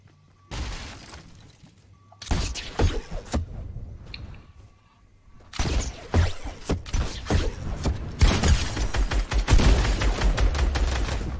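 Gunfire in a Fortnite match, with dense bursts of rapid shots and sharp impacts building in intensity, loud and near, no talking over it.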